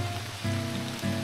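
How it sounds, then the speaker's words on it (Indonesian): Heavy rain falls on the Mount Kerinci hiking trail in the Sumatran mountains, a loud dense steady wash close by, with a low tonal hum cutting in and out beneath it. "hujan turun dengan intensitas yang cukup deras"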